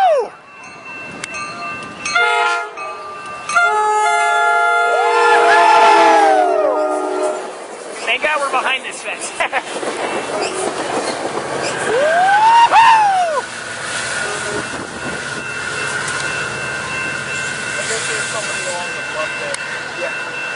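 A Coaster commuter train rumbles past at Del Mar near San Diego, its horn sounding with clear Doppler swoops, while people talk nearby.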